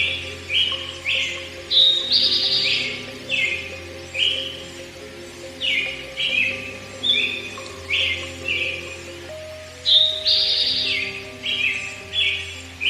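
A songbird sings loud and close, repeating bright, sweet phrases every second or so over a sustained low musical drone, with no talk.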